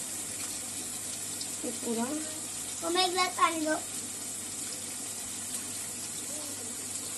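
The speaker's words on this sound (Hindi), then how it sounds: "अब इसका पानी खाली अपने को डालना है इसके अंदर" Tamarind soaking water poured into a pot of mutton kofta, a soft trickle and splash in a home kitchen, quiet and brief, with someone talking over it.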